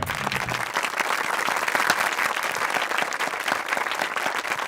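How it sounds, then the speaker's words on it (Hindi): Audience applause in a Hindi-dubbed movie scene, dense sustained clapping from a crowd, loud and even throughout, with a faint voice at the very start. "तालियां"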